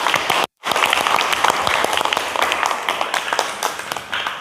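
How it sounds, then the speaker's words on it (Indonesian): Classroom of students giving loud, dense applause after a group presentation, with the clapping continuing strongly after a brief cut near the start. "Beri tepuk tangan"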